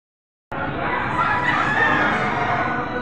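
A rooster crows among a dense, constant din of fowl and crowd noise at a livestock auction market, starting abruptly after a half-second of silence.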